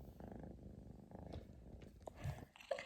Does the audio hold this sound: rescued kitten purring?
yes